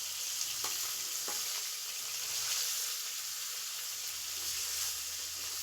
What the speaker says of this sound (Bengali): মাছটা ভাজার সময় গ্যাসের ফ্লেমটা হাই করে রাখবে